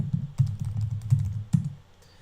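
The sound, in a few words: typing on a computer keyboard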